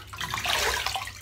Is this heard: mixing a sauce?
no